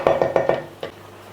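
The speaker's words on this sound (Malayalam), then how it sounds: "ഒന്ന് മൂടി വെക്കാം കേട്ടോ" A metal lid clanks onto a pot of egg biryani: four quick clinks of metal on metal in close succession, then one softer knock after a short pause, nearby with no talking.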